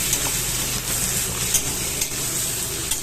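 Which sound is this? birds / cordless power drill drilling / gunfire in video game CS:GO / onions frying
onions frying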